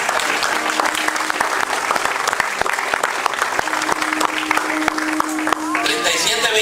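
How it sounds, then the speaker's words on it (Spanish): Sustained applause fills a church as the congregation claps together, dense rapid clapping near and loud throughout, with a voice speaking briefly near the end. "Denle un aplauso al Señor porque miro."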